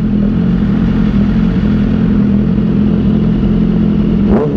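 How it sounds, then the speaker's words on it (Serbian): A motorcycle's engine drones steadily and loud up close as it weaves between buses in city traffic, with a brief rev rising at the very end. "konačno na motoru, konačno, znači, uff. Kako provlačenje između autobusa"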